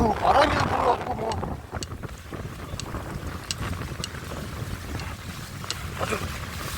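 Strong wind blows across a seaside breakwater by salt fields during mackerel float fishing in heavy swell. It buffets the microphone in a continuous rough rumble that is loudest at the start, with faint ticks scattered through.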